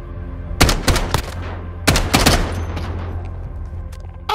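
Bursts of rapid gunfire in a shooter video game, loud and close, coming in two dense volleys about a second apart with ringing tails between them, no talk.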